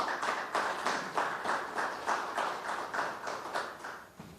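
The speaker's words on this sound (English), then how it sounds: "A big round of applause as he comes." An audience at a Zimbabwe Premier Soccer League sponsorship unveiling claps in a steady, rhythmic pattern. The applause is moderately distant, fairly even throughout, and no one speaks over it.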